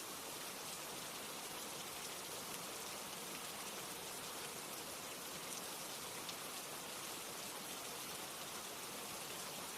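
Steady rain falls continuously, a dense even hiss of drops on surfaces with no breaks, holding a constant moderate level throughout with no voices.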